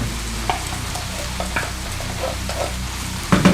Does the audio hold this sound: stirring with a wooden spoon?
yes